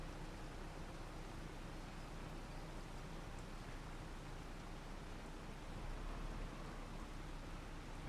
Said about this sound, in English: But the rain isn't due to pass anytime soon, it's going to be a while.